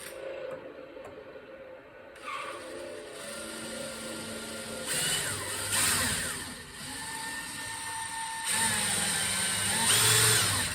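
A long power drill bores into the cabin side supports of a Zenith CH 750 CruZer kit aircraft in several whining bursts of varying pitch, separated by short pauses, with some clattering between runs.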